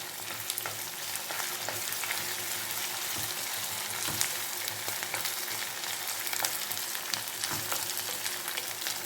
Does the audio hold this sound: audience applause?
no